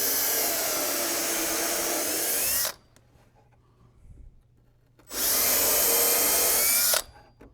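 A power drill drives a screw bit into scrap wood for an Adirondack chair, two loud sustained whirring bursts of about two and a half seconds each, separated by a near-silent pause.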